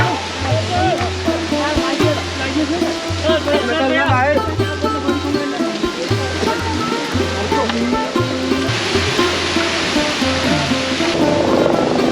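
A waterfall beside the Gaurikund to Kedarnath trekking trail gives a steady, broad rushing roar that runs through the whole stretch, with voices and rhythmic chanting layered over it.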